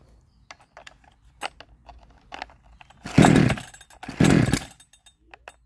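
A 62cc Chinese chainsaw with suspected wrong timing sputters and briefly catches twice in loud bursts of rough engine noise, preceded by clicks and rattles of handling, close by.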